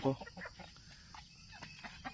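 A few hens and a rooster cluck softly in short bursts nearby on a farm, with a quiet, low background.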